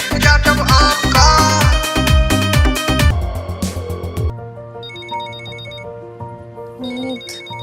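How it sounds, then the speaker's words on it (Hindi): A mobile phone rings loudly with a bright, melodic electronic ringtone over a busy musical passage, then keeps chiming in sparser repeated tones as the backing thins out. "तुम्हारा फोन बज रहा है"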